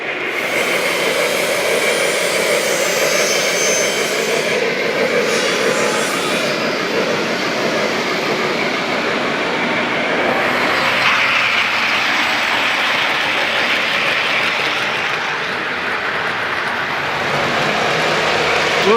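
A Western Pacific model locomotive runs on a Lionel club layout, giving a steady, loud rumbling roar with a hissing edge that holds evenly throughout with no speech over it.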